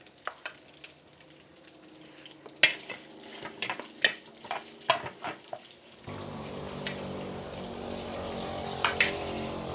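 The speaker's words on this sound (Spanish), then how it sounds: "voy a poner la salchicha para que se dore poquito también" Sausage drops into a pan where chiles are already browning, giving a soft sizzle broken by sharp clacks and scrapes of stirring, then a louder, steadier frying hiss takes over; fairly quiet overall.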